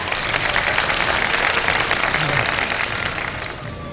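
Studio audience applause on a Ramadan iftar quiz show, a dense sustained patter of clapping that fills the whole stretch and tapers slightly toward the end.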